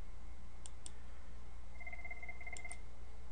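An IP phone rings with an incoming call in a lab setup, giving a short electronic ring tone with a couple of faint clicks before it, quiet over a steady background hum.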